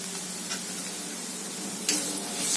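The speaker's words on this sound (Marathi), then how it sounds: "आता हे परतून घेऊयात मिक्स करून. आता त्यामध्येच आपण ओलं खोबरं सुद्धा घालूया." Grated fresh coconut and bitter gourd masala being sautéed in a pan, a soft steady sizzle with scraping stir strokes and a louder spatula swipe near the end, no voices.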